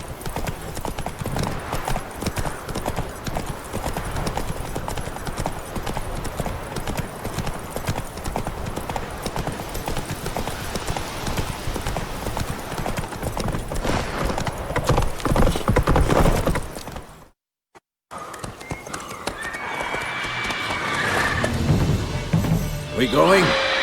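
Roach, the horse in The Witcher 3, gallops hard with loud, dense, rapid hoofbeats close up for about seventeen seconds, then cuts to silence before game ambience returns.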